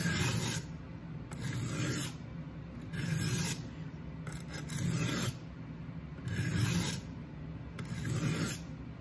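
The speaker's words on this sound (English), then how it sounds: "Basically where I just do put lighter pressure on the knife and just go back and forth like this." Kitchen knife stroked back and forth under light pressure on a Work Sharp guided sharpening stone to remove the burr, a steady rasping scrape repeating in about six even passes, close and clear with no talking.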